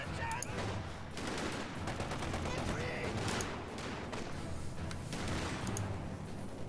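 A .50 cal machine gun firing on a Grenadier squad in Company of Heroes 2, rapid dense bursts of gunfire running almost continuously at steady loudness amid other battle noise.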